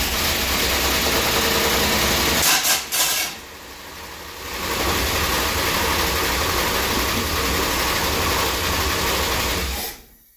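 A Mopar engine, just fitted with a new cam and with its crank pulley coming off, roars loudly and close, cuts out briefly, then runs again steadily before shutting off.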